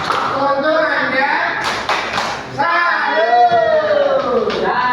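A seminar audience gives a brief 'tepuk salut' clap, a short cluster of sharp claps in the middle while a speaker talks before and after it.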